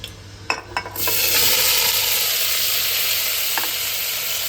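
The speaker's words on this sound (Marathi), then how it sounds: "आणि यामध्ये आपल्याला हे सगळं टाकायचं एकदमच आणि मी सगळं भाजून घेणार आहे" Ingredients for a Maharashtrian moth bean curry tipped all at once into hot oil, the pan erupting into a loud, steady sizzle after a few clanks and stirs, frying on continuously and close by.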